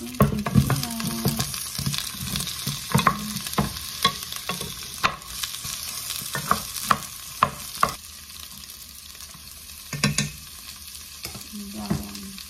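Onion and ginger sautéing in a pan, a steady sizzle broken by repeated sharp scraping and stirring knocks of a utensil against the pan, close and fairly loud, with no talking.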